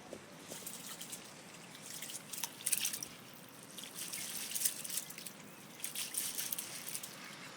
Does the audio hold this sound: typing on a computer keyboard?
no